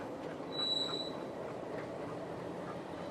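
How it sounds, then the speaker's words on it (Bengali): A shunting train moves an oil tanker wagon between tracks in a station yard, rumbling steadily at a distance with a brief high metallic wheel squeal early on, the low rolling noise continuing evenly throughout. "এই যে ট্রেনটি যে নিয়ে যাচ্ছে এক লাইন থেকে আর এক লাইনে"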